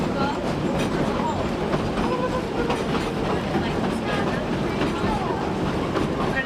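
Train riding the rails past the Lebanon mine in Colorado, a steady clickety-clack and rolling rumble with faint wheel squeals, continuous and close, with a guide speaking over it.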